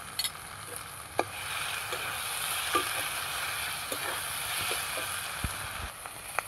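Chopped tomato and a spoonful of ginger paste fry in a pan, a soft, steady hiss and sizzle with scattered light clicks of a spoon stirring, close and otherwise quiet.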